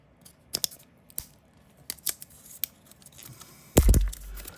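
A thin knife slices through blind box gift packaging: a few sharp, scratchy cuts and crinkles, quiet and close, ending in a louder tearing burst.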